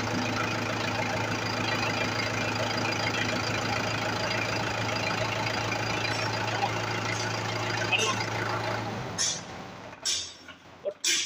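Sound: Mahindra tractor engine started and idling

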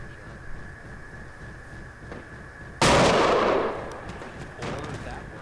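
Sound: gunfire in Project Reality video game

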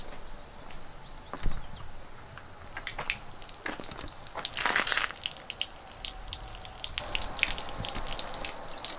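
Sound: water draining through

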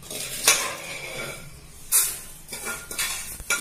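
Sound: mint leaves frying in ghee for ghee rice

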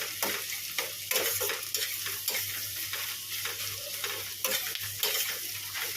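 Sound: onions frying in a pan for biryani meat

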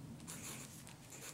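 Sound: writing a year on a film negative folder

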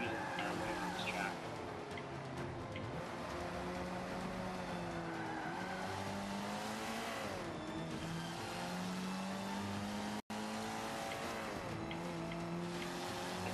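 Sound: race car engine in the video game Forza Motorsport 5

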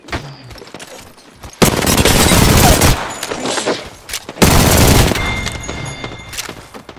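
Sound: gunfire shooting in a video game

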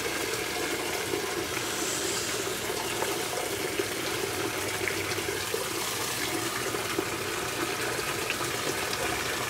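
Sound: washing machine filling with water

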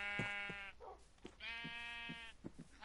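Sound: sheep bleating in Minecraft video game

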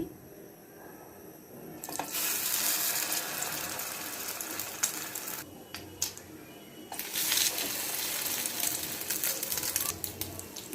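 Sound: bread slices frying in hot oil

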